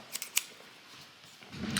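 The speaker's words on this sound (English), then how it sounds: "These are Fiskars scissors." Fiskars scissors cut paper in a few quick, crisp snips early on, close and fairly faint, followed by quiet rustling and handling.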